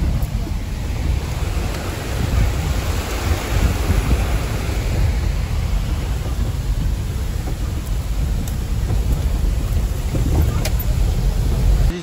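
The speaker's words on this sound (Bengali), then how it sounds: "বড় ঝর্ণা রাস্তার উপর" A large waterfall pouring over a mountain road on the way to Trijuginarayan in the Himalayas, a loud, steady, broadband roar of rushing water heard close and continuous throughout, with no talk.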